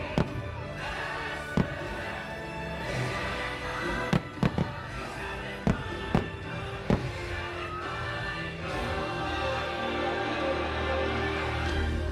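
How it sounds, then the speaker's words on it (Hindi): Fireworks display at Disney World, with sharp bangs bursting at irregular intervals over a constant roar of crowd and ambient noise. The explosions sound moderately distant and loud. "तो फाइनली ये फायर क्रैकर्स भी हमने देखे"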